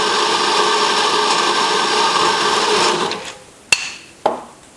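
A coffee grinder grinds beans with a loud, steady whirring roar for about three seconds, then winds down and stops, followed by two sharp clicks.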